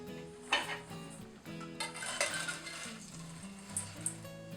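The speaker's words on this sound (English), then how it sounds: "I am going to transfer it to a beautiful bowl" Stove-top popcorn tipped from a metal pot into a serving bowl: a run of scraping, clinking and rattling, with kernels spilling against the sides and the pot knocking on the bowl's rim, close and fairly loud, with nobody talking.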